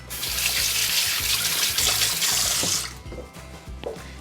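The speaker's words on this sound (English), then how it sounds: "Quick wash the hands." Hands washed under a running kitchen tap give a steady, close splash of water that stops abruptly, followed by a few faint drips and small handling sounds.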